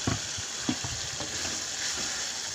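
Banana stem sizzles in a pan alongside pre-fried chicken innards, a constant frying hiss broken by a few sharp scraping taps of a spatula stirring close by.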